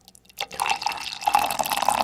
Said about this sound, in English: Yeah, pour it in. I'm gonna pour it on the mic.